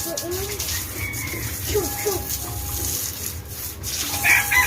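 Chickens cluck softly in the background while a person talks over them, with a brief higher call near the end.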